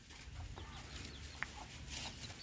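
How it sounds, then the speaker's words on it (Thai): Bantam chickens cluck in short, soft bursts at a Buddhist temple grounds, heard faintly at a middle distance over steady low background rumble. "แล้วก็จะมีไก่นะไก่แจ้นะเต็มเลยนะครับนะ"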